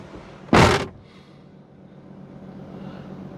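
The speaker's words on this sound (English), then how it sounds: "Let me just close the door." A single loud slam as the door of a 2021 Ram 2500 ProMaster refrigerated van is shut close by, followed by a low steady hum.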